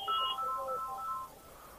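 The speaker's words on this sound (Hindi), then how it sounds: "मेरे पास फोन पे फोन आ जा रहे हैं" Phone ringtone sounding for incoming calls, a short melodic electronic tune of rising and falling tones, clear and alone before trailing off.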